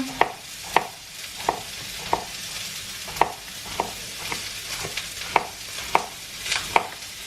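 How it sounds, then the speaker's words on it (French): Onions fry in a pan on an induction hob while courgettes are sliced nearby, with regular knife taps about twice a second over a soft steady sizzle, close and clear, no speech. "Mes oignons pendant qu'ils rôtissent, je coupe mes courgettes."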